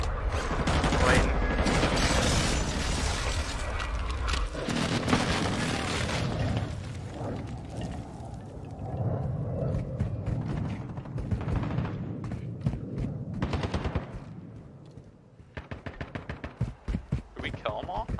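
Gunfire and explosions in a shooter video game, dense rapid bursts and booms up close, under frequent talking from a player.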